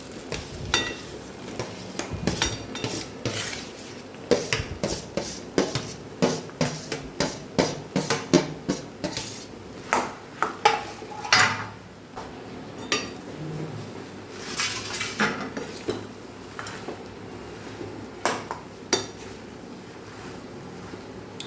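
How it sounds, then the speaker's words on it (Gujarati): Spiced masala being mixed into mashed potato filling in a pan for aloo paratha: repeated close metallic clanks and scrapes of a spoon against the pan in an uneven rhythm, with no talk. "મસાલાને સરસ આપણે બટેકાના માવા સાથે મિક્સ કરી લેવાનું છે."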